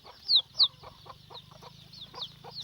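Chickens cluck softly by a coop, short scattered calls repeating through the stretch, with a couple of louder sharp bird chirps near the start over a low steady background hum.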